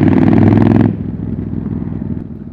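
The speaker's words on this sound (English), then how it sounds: "If you can get the sound of your bike across as well" Motorcycle engine and exhaust while riding, a loud steady rumble that drops abruptly to a lower, rougher drone partway through, with no talk.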